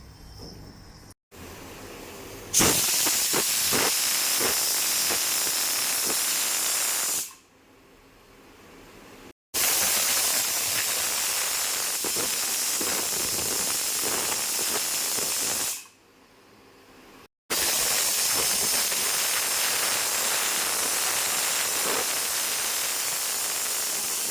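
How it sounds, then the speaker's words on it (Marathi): A pressure cooker cooking pea rice releases steam in long, loud hissing whistle blasts, three bursts separated by brief quieter gaps. "आपण आता कुकर लावूया. तर ह्याला आपण 3 शिट्या करण्यासाठी ठेवूया"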